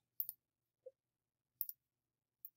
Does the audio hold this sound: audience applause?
no